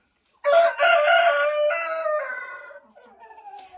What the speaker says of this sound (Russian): Вот они, мои старые курочки.